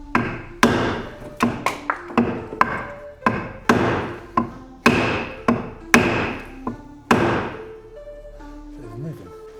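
Repeated hard wooden taps and thunks from a wooden block struck against parts during an R32 engine swap, about a dozen irregular knocks, close and loud, ringing briefly with metallic overtones.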